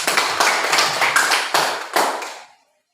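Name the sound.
class clapping for students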